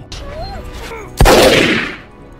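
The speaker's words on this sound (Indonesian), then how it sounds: "menembak salah satu dari mereka ketika ia lewat tepat di punggungnya" A single loud gunshot rings out in a film scene, a sharp broadband crack followed by a long decaying echo, after a stretch of quieter background sound.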